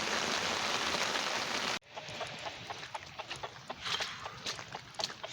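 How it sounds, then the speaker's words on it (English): Rain falls in a private woodland: a loud, dense patter for about two seconds stops abruptly, then scattered heavier drops keep tapping nearby. "So the rain sort of calmed down a little bit."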